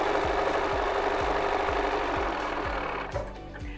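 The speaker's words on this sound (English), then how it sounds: "Today I'm sewing on the BERNINA 480" A BERNINA 480 sewing machine runs steadily while sewing quilt binding, loud and close, with a regular mechanical needle thump repeating about twice a second before it winds down near the end.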